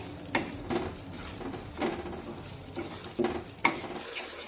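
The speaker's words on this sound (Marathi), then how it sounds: "हा रवा मी सतत परतून घेतला आहे." Semolina dry-roasting over a very low flame while being stirred continuously in a pan, with soft, intermittent scraping strokes at a slow, uneven rhythm, fairly quiet and close, with no talking.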